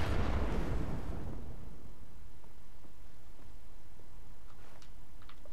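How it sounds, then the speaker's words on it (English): A loud blast or shot in the video game Wolfenstein: The New Order opens the sound and rumbles away. A few faint, sparse ticks and impacts follow in the distance, with no voices. "Oh my, stop shooting at me!"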